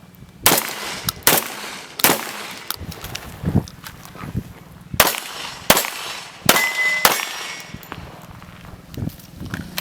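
Pistol fired in a shooting demonstration after a reload: sharp, loud, close gunshots in irregular bursts, several cracks spaced across the stretch with brief echoing tails and quieter handling sounds between.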